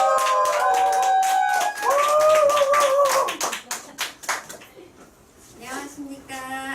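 An audience at a Nu Skin business training session in a lecture room claps. Voiced tones fill the opening, then scattered, uneven hand claps come through close and fairly loud before fading into quieter sound.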